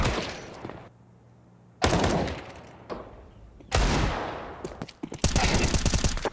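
Counter-Strike match shots arrive as several sharp, loud bursts of gunfire with quiet gaps between, ending in a denser rattling volley.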